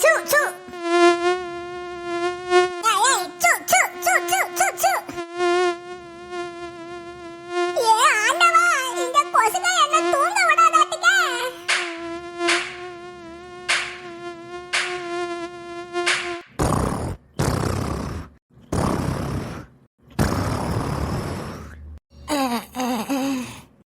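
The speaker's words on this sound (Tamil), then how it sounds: "காதுக்குள்ள வந்து கொசு பாட்டு பாடிட்டு இருக்கு" Cartoon mosquito whining close to a sleeper's ear: a high, tonal buzzing drone that swells and wavers for several seconds, followed by gasps and groaning sounds with short bursts of noise.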